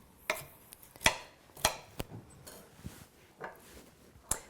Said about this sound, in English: it's a good idea to just give them one or two little cuts in case the spirals are really long